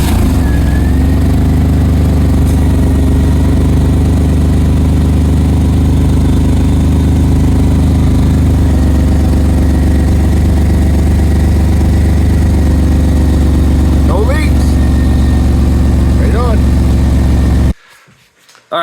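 A truck engine runs at a steady, loud idle close by for most of the stretch, with a brief rise partway through, then cuts off abruptly near the end.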